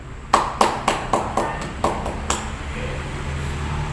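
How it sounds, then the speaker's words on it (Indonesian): Slow, evenly spaced claps in a school hall, about eight sharp, ringing hits that echo, then quiet. "Beri tepuk tangan"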